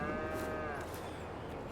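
Cattle in the farming game Farming Simulator 22 let out a single long, tonal moo that fades after about a second, over a quiet ambient background.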